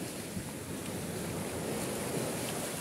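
High, fast-flowing river water rushes in a steady, dense wash, fairly loud and continuous with some wind buffeting and no voices.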